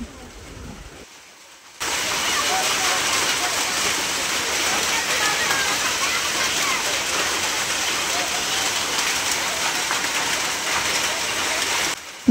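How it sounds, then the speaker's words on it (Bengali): Hail and heavy rain pour down outside during a storm, a dense, loud, steady roar that starts abruptly after a quieter moment and continues without a break. "এই দেখো বাইরে কি পরিমাণে শিল পড়ছে, আর অনেক কয়েক বছর পরে শিলাবৃষ্টি হচ্ছে।"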